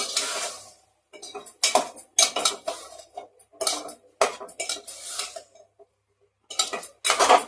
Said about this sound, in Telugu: వేసిన తర్వాత ఒకసారి అన్నీ కలుపుకోవాలి